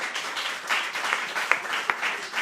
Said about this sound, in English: Let's hear a round of applause for Larry and Zach.